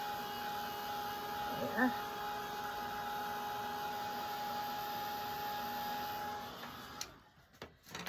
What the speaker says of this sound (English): take your heat tool and blow on that to melt those little glue strings